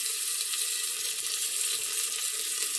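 Pieces of meat browning in about a tablespoon of sunflower oil for Algerian chorba frik, giving a steady, close, even sizzle that holds without breaks and without talk.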